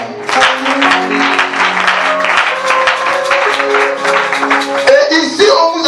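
A church congregation claps together after a scripture reading, loud steady applause close by with a sustained chord of organ or keyboard music underneath.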